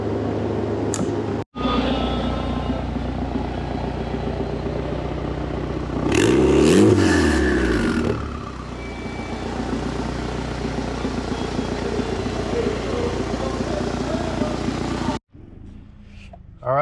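A turbocharged CG6 Honda Accord on the street for its first drive after a tune, the engine droning steadily from inside the cabin, then revving hard in a rising surge midway before settling back to a cruise.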